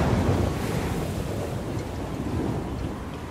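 Storm waves crash and roar across a stormy sea, a dense, continuous rush of surf with heavy wind noise, loud and enveloping from start to finish with no voices.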